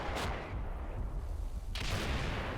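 Enemy mortar shells from a war video game crash into woods, a short blast early on and then a longer, heavier rumbling barrage that fills the rest of the moment over a constant low battlefield drone.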